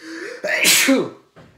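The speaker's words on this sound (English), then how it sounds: "Sorry about my sneeze." A single loud sneeze from a man sits close to the mic, with a short breathy intake before the burst, followed by a faint trailing sound.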